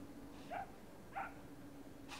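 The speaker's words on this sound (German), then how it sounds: "War der kein Hund?" Two short, faint dog barks about half a second apart sound at a distance inside a train simulator game set on an Austrian Alpine S-Bahn line, over a low steady hum.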